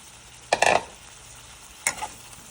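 Pre-fried ingredients tip into hot oil in a pan with a sudden sizzle and scraping stir, followed a moment later by a second shorter stirring burst, the frying hiss continuing softly underneath.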